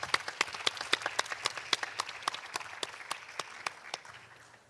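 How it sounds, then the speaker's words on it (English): Audience applause for a panel of speakers at a regional trade and markets event, scattered individual claps with a slightly irregular rhythm, moderately distant and fairly light, fading slightly toward the end with no talk. "give these panelists and those that were before them a round of applause"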